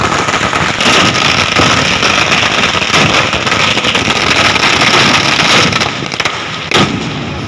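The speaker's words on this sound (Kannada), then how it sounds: "ಕೆಪಿಸಿಸಿ ಕಾರ್ಯಾಧ್ಯಕ್ಷ ಸತೀಶ್ ಜಾರಕಿಹೊಳಿ ಅವರು ಬರುತ್ತಿದ್ದಂತೆ ಪಟಾಕಿ ಸಿಡಿಸಿ ಹೂಗುಚ್ಛ ನೀಡಿ ಸ್ವಾಗತವನ್ನು ಕೈ ಕಾರ್ಯಕರ್ತರು ನೀಡಿದ್ದಾರೆ." Dense, loud rapid crackling of firecrackers set off by Congress party workers in Chikkodi to welcome a visiting KPCC leader, bursting nonstop before thinning out near the end.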